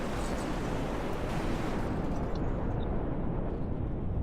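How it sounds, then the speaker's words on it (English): A large explosion bursts behind the flying robot Hellfirefly in a robot combat video game, sustained as a dense, rumbling roar of broadband noise throughout, with no voices over it. "large explosion going on here at the back of the Hellfirefly"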